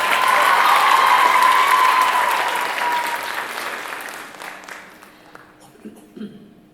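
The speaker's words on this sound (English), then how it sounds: "Let's give them another round of applause." A large audience at an arangetram graduation applauds loudly and densely, then the clapping gradually thins and fades to a few scattered claps.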